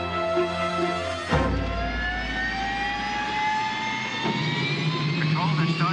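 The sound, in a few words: aircraft jet engines starting up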